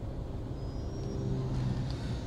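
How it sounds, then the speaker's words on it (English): Low, steady rumble of slow, congested road traffic in the Philippines near the bridge in Otis, with idling engines and faint road hum at a distance and no voices. "I've been in this traffic for a good 40 minutes now"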